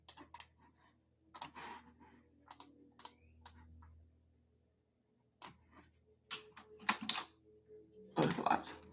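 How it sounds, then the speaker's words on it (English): Close, quiet typing on a Mac computer keyboard comes as irregular bursts of sharp clicks, with short pauses between runs and a denser flurry of taps near the end. "why am I typing this?"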